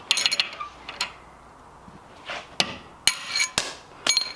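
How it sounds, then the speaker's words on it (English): Sharp metallic hammer taps on a punch knocking out a bolt: a quick cluster at the start, then single strikes spaced apart, close and fairly loud in a quiet room. "run a little punch down there, and you can hit it out with a hammer"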